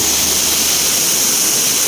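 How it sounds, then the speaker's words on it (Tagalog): A strong creek in Panipuan, San Fernando rushes steadily nearby, a loud, even roar of flowing water with no breaks. "yung nga palang ingay na narinig nyo sa likod ko is yung sapa. Malakas yung tubig ngayon."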